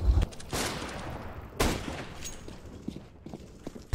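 Gunfire in the game CS:GO: two loud crackling bursts about a second apart, each fading into a rattling tail, with fainter scattered shots after them.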